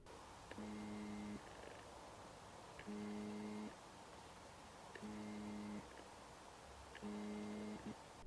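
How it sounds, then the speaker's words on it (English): Autofocus motor of a Canon RF16mm F2.8 lens, captured on a Canon EOS R body's built-in mic, gives four evenly spaced short buzzing whirs about two seconds apart over a faint hiss, quiet and close. "how much noise the focusing motors make"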